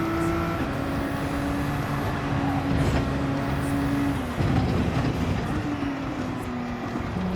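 A race car engine in Gran Turismo 7 holds a steady, sustained drone with pitch slowly sliding as it takes a hairpin, loud and continuous throughout.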